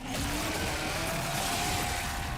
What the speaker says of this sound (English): This chainsaw has a 14-inch blade with that signature meaty yet intimate sound